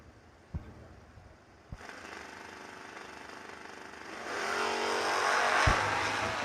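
Drag race cars, a Firebird and a Mustang, launch at a New Year Nationals event. A couple of sharp pops come first, then engine roar that swells and grows louder as they pull away.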